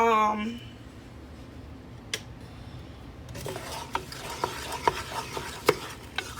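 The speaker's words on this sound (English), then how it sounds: "cook this first until your onions are clear and cooked through" Onions frying in a pot for red sauce: after a voice briefly speaks, a quiet low sizzle builds, then a spoon clinks and scrapes the pot several times over a steady close frying hiss.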